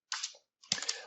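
Two quick bursts of computer keyboard typing, close and crisp clicking keystrokes separated by a brief pause, with no voice.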